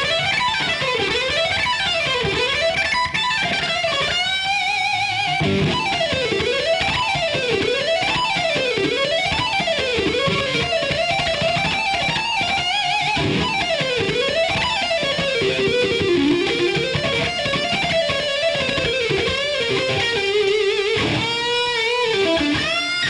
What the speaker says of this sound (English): I'm just going to play those notes up and down as fast as I possibly can using hammer-ons and pull-offs.